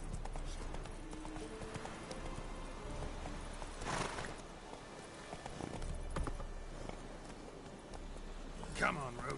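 Hooves of Roach, the horse in Witcher 3, pound in a quick clip-clop gallop, moderately loud and steady, with a voice talking over the hoofbeats.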